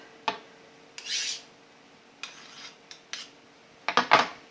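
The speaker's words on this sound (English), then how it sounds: "I'm finally just mincing the garlic up. When I'm using the back of the knife to scrape it off" Kitchen knife mincing garlic on a cutting board, heard as a few sharp taps and short scraping strokes, separated by quiet pauses with nobody talking.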